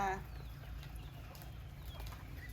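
Free-roaming farm chickens cluck briefly and faintly outdoors at a forest homestead, one short call near the start and then soft distant sounds over a low steady background hum.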